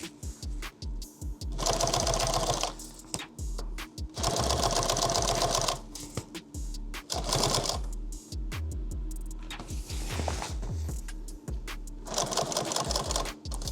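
A sewing machine with a zipper foot stitching a shooting mat, running in rapid mechanical bursts of several seconds separated by short pauses and clicks, close and loud.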